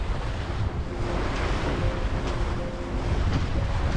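Strong wind and choppy, whitecapped sea waves at around 20-22 knots on open water between the Bahamas and Jamaica, heard from aboard a sailboat: a steady, loud roar of gusts and surf with buffeting on the microphone and no voices.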